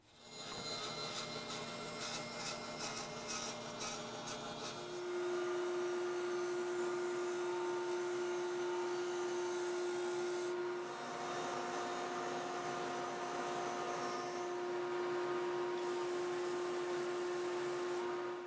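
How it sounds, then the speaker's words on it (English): A woodshop bandsaw and edge sander working on the wooden sides of a coopered chest, a loud continuous machine whine with shifting hum and tone as the cut gives way to sanding, no voices. "Cut them out on the bandsaw. I just hit them on the edge sander to smooth them out."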